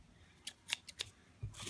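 Scissors snip through a folded sheet of origami paper for a paper box, a few quick close crisp cuts in irregular succession.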